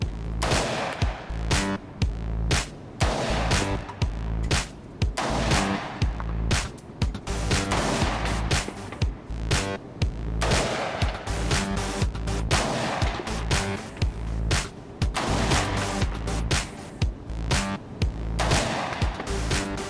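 A rifle fitted with a Vortex Venom 1-6x24 LPVO scope fires a long steady string of rapid gunshots outdoors, loud, sharp cracks repeating in quick succession over twenty seconds.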